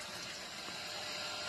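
Water runs into a drum as a steady, faint broadband rush with no breaks, heard alone.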